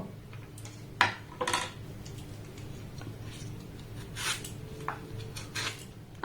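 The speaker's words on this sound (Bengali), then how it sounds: "এবার আমের এই খোসাগুলোকে আমি ছাড়িয়ে নেব" Raw mango skins being peeled with a knife, a few sharp scraping strokes and light clicks spaced irregularly, close and fairly quiet over a low background hum, no talking.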